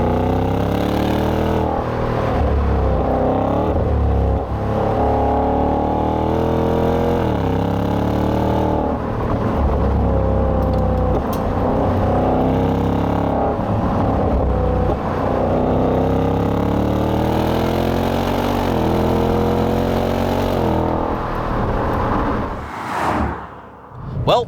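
A Ford Mustang Dark Horse engine roars loudly through repeated manual-mode gear changes, revs rising and falling with a deep burbling exhaust set to loud mode, close up inside the car.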